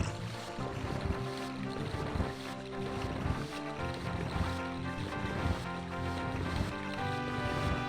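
Flowing water in the video game Zelda: Ocarina of Time, a continuous watery rush and surf-like wash that runs steadily throughout beneath tonal game music, with no talking.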